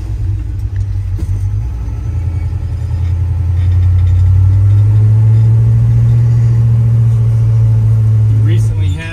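A 1964 Pontiac GTO with a recently rebuilt transmission rumbles with a deep, steady V8 drone that swells as it pulls away, loud and close, with a voice speaking briefly over it.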